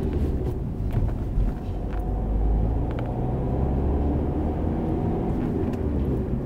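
A car on a driving lesson steadily rounds a roundabout, with a continuous close engine and road rumble throughout and no clear changes. No voices.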